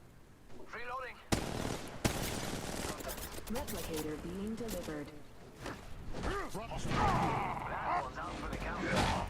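Rapid bursts of video game gunfire crackle over one another throughout, with sharp impacts and whooshes, while players shout and talk excitedly over the action.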